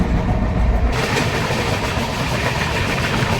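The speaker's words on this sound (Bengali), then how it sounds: "লোকালের সাথে প্যারালাল রেসিং হচ্ছে ট্রেন জার্নিতে" The Tamralipta Express runs alongside a local train, giving a loud, close, steady rumble and roar of wheels and carriages, continuous throughout with no voices.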